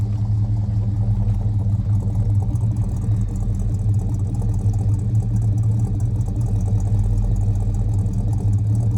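A 1979 Chevrolet Camaro barn find with an all-new exhaust idles steadily, a deep, rumbling burble with a slight lope that stays even and close throughout, with no revving and no talk.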